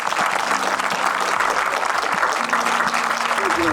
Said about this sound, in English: That round of applause is richly deserved.